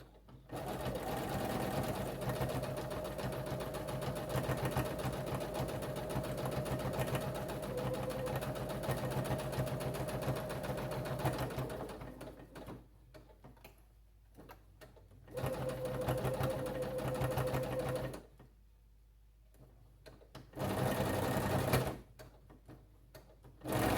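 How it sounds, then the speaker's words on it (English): A sewing machine backstitches elastic into the seam of a fabric eye mask, running in a steady close stitching stretch for about twelve seconds, then in two shorter bursts separated by pauses. "I'm actually going to backstitch here a couple times just to make sure it's secure."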